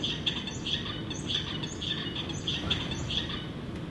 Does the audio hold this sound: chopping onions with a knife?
no